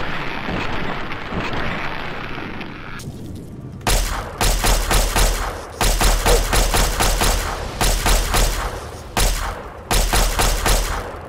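Gunfire aimed at an ant guardian in Fallout 3: loud, close bursts of rapid shots in several separate volleys, each a dense crackling rattle, with brief pauses between them and no talking.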